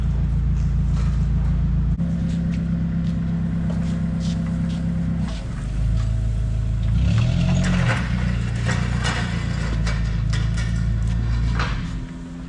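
Classic Warn winch on an old trailer mount spooling its cable off the drum, a steady loud motor drone with a low whine that shifts pitch partway through, heard close and continuous with no talking.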